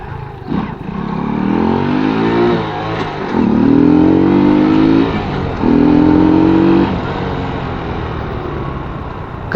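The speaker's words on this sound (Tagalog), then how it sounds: "may laban tayo sa sa acceleration dito sa Euro Rock" Euro Rock R125 V2 motorcycle, a 125 cc bike, revving hard through three rising acceleration pulls, each engine note climbing in pitch and then dropping at a gear change, loud and close with no talking.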